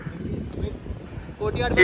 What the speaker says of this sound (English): is really windy